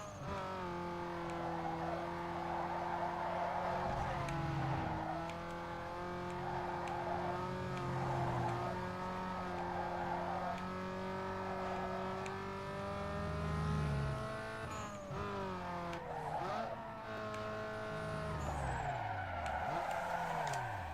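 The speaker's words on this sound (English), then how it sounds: "I could have done a little bit better on that drift" A car drifts in the racing game Need for Speed Underground 2, with a sustained engine drone, shifting revs and long tire squeals and skids running throughout.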